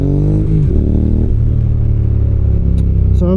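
A 2015 Honda NC750X twin-cylinder 750 motorcycle engine revs and settles, its loud throbbing exhaust note shifting pitch as the throttle is blipped, then holding a deep steady rumble up close.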